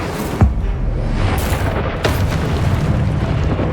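Loud booming spell blasts from the Confringo fireball in the Hogwarts Legacy video game, with two sharp impacts over a continuous rumbling battle din and no talking.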